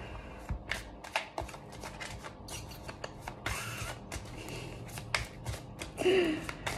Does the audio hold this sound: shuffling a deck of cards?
yes